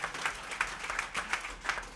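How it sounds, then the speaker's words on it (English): Faint scattered applause from a small jazz concert audience, with a few distinct claps over about two seconds. "a huge round of applause for him as well"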